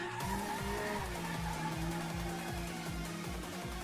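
Stock Audi A6 in the Assetto Corsa racing game, a steady engine drone with regular rising and falling pitch sweeps and a continuous tire-squeal hiss, mixed fairly loud under background music.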